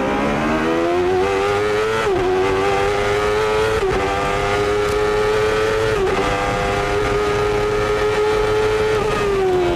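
A Chevrolet-engined CART race car at Laguna Seca in 1993 screams at high revs, loud and close, holding a sustained whine with brief dips at each gear change and no talking.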